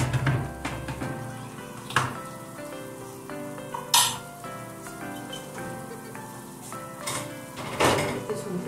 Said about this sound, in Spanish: Que se fría bien.